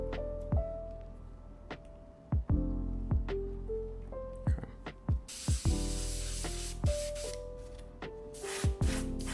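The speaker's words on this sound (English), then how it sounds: "This is the biggest airbrush I have, and you're gonna want your bigger needles for priming." A large airbrush loaded with a bigger needle sprays primer on compressed air in repeated short hissing bursts, with a steadier, louder spray near the middle and sharp clicks between passes.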